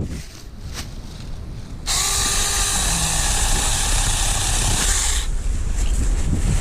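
A Saker 4-inch battery-powered chainsaw cuts small scrub oaks, its high whine jumping to a loud sustained buzz for about three seconds before dropping back as the cut ends.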